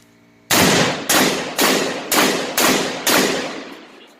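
A rifle with a binary trigger and a 30-round magazine fires six loud, sharp shots at an even pace about half a second apart, each report ringing out and decaying before the next.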